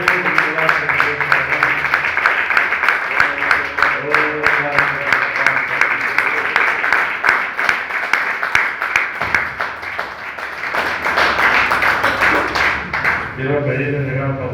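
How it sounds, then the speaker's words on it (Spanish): A church congregation claps together in sustained, rhythmic applause, loud and continuous, while a preacher's voice carries over it. "Den un fuerte aplauso."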